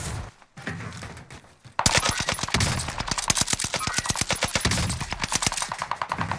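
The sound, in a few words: gunfire in a video game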